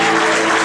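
A church congregation at a seminary service in Côte d'Ivoire bursts into a short, dense wash of applause and cheering, loud and close, lasting under a second.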